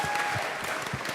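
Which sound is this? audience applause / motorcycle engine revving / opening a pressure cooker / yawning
audience applause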